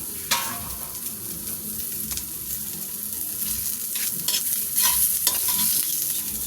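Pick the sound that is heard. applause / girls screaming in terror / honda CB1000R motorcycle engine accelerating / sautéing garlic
sautéing garlic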